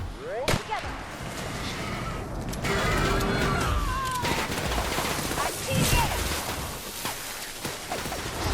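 Gunfire in The Outer Worlds video game, a busy exchange of shots with sharp cracks scattered over steady loud combat noise, a voice speaking briefly through it.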